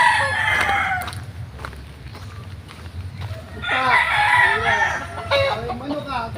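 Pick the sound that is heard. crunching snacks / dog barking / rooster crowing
rooster crowing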